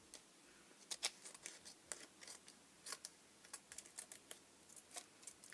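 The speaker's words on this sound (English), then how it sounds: "what I'm going to do is just trim away the excess plastic." Scissors snipping away excess clear plastic while making a handmade greeting card, a string of quick, quiet crisp cuts heard close up with no voices.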